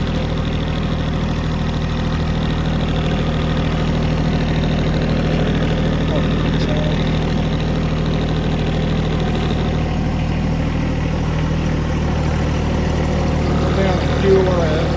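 A John Deere 1025R compact tractor engine runs steadily while mowing tall grass, a constant mid-low drone that holds the same level throughout with no talk over it.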